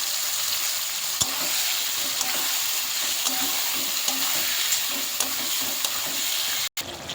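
Mutton tipped into a pan of deep-fried reddish onions sizzles and crackles steadily, a bright continuous fry with occasional stirring clicks, close and loud, ending with a sharp bump.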